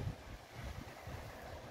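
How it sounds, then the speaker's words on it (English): Strong wind coming off a choppy ocean, a steady low rumbling roar buffeting the microphone throughout, with no voices. "It's coming up off the ocean and it's pretty strong."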